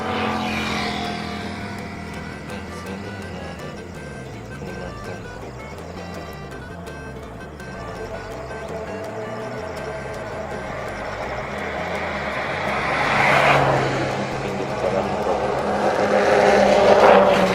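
A company car in rural Kalimantan, Indonesia, drives past with a steady engine rumble that swells louder toward the end as it nears, over a faint background of other noise.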